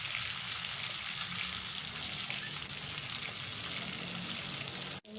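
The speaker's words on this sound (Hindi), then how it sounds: "हम ये मिर्चें शामिल कर देंगे जो हमने मसाला भर के रखी हुई थी, और इन्हें भी हल्का सा फ्राई करेंगे।" Masala-stuffed green chillies and garlic sizzling in hot oil in a tempering for dal; a steady, loud, dense crackle runs continuously, cut by a brief drop near the end.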